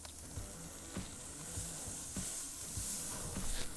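Flap steak sizzles steadily in beef tallow on a grill, a soft continuous frying hiss with occasional faint pops, alone without talk.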